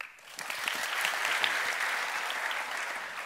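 Conference audience clapping at a GraphQL talk, applause swelling in after a brief quiet start and holding steady as a dense, moderately loud patter with no voices over it.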